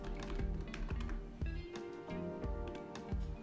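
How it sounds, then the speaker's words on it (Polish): Soft, quick left-button clicks from a computer mouse, a dozen or so in an uneven rhythm, close by and fairly quiet. "Klikam lewym przyciskiem myszy tutaj na nazwisko."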